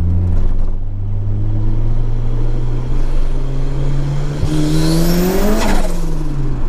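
A 1987 Ford Sierra Cosworth RS500 engine pulls hard through first and second gear, loud and close, the note climbing steadily, then a quick shift and a higher whining rise, with no voices.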